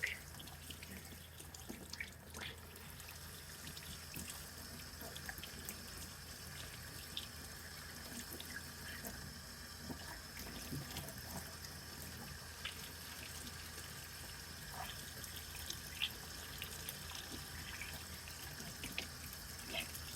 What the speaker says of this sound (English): rinse it well after using dish soap, because you don't want any dish soap flavored carbonated drinks.